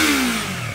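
Yamaha MT-03 motorcycle engine revving close by, a loud steady roar with a falling pitch as the revs drop, alone without talk.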